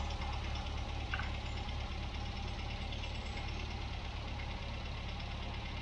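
A 1967 MGB Mk1 engine idles steadily just over 900 RPM after carburettor tuning, a constant low rumbling drone with even mechanical ticking, heard close and uninterrupted.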